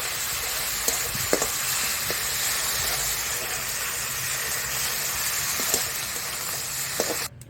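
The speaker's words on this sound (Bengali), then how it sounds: "জিরে তেজপাতা দিয়ে দিচ্ছি আদা বাটা দিয়ে দিচ্ছি টমেটো কিছু দিয়ে দিচ্ছি" Cumin, bay leaf, ginger paste and tomato fry together in a pot for khichuri, a dense, steady hiss of sizzling oil with a few faint clinks of stirring, constant and close.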